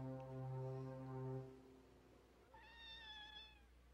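A kitten meows, a long drawn-out harmonic cry followed by a second higher, shorter meow, close and clear against a quiet background.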